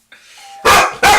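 A doorbell sounds in two loud, close bursts after a faint lead-in tone, heard alone without talking.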